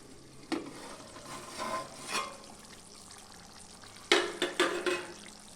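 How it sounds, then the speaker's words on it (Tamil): A spoon scrapes and stirs through a pan of chicken curry amid a soft sizzle, with a few clustered scraping strokes near the end, close and fairly quiet. "இதை நல்லா ஒரு தடவை கிளறி விட்டுக்கலாம்."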